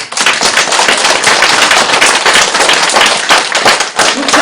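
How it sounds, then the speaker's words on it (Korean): Dense, continuous clapping from an audience at a Buddhist dharma talk on the Diamond Sutra, loud and close with sharp overlapping hand claps sustained throughout. "박수 좀 쳐"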